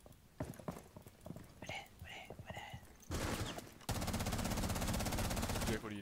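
Rapid automatic gunfire from the Rainbow Six Siege video game, sustained loud bursts in the second half, preceded by softer clattering game sounds with quiet voices talking.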